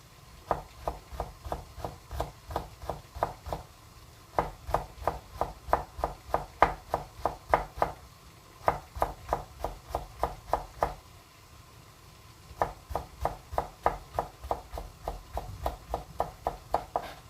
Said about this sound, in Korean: 반채도 아주 곱게 채를 썰어 주시면 됩니다